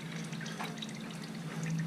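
Engine oil drips from a Triumph Explorer XCA motorcycle during an oil change, faint irregular liquid patters and trickling over a low steady hum.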